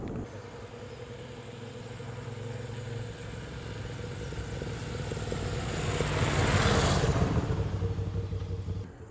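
A Moto Guzzi V7 motorcycle engine runs at motorway speed around 65 to 70 mph, a steady low drone with wind rush that swells louder for a few seconds near the end, with no talk over it.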